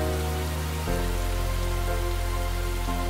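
Heavy rain falls steadily and loudly, a dense continuous wash that swells after a brief quieter opening and then holds even, with a low droning hum underneath and no voices.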